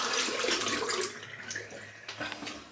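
Tap water runs steadily into a sink while hands are wetted before applying skin care after a shave, a close, continuous hiss with light splashing that tapers slightly toward the end.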